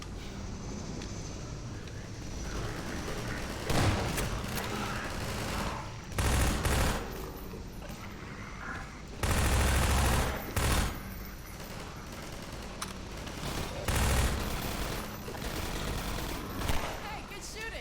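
Gunfire in the video game Half-Life 2 Episode 1 comes in repeated loud bursts over a steady rushing background, with short gaps between volleys.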